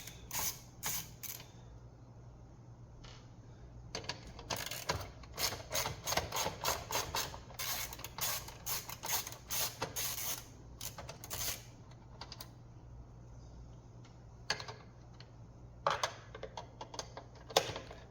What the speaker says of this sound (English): And then remove these 4 T25s.